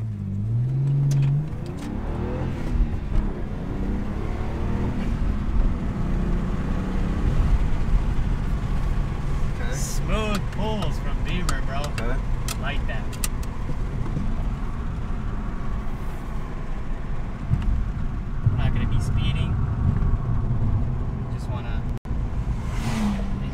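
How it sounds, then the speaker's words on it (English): A BMW 335i with a new VRSF charge pipe and Burger Motorsports DCI, heard from inside while driving: a steady engine and road drone with rising and falling revs and brief turbo whistles, under people talking in the cabin. "The little turbo sound."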